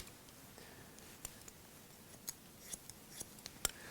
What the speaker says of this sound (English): I'm just using the tip of the scissor. That's where all the power is. Snap the hair right off.